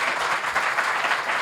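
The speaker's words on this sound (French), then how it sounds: "Merci sous vos applaudissements, Clémence Guettet." A studio audience on a French talk show set applauds, a brief dense burst of clapping heard close and fairly loud.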